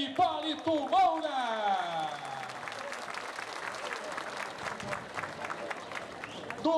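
An audience applauding repentista singers at a Brazilian northeastern cantoria duel, dense clapping that starts loud and holds steady, with an announcer's voice over the opening moments.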